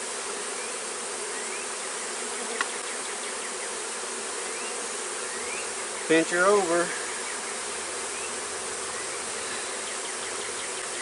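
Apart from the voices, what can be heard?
honey bees buzzing while installing queen in mating box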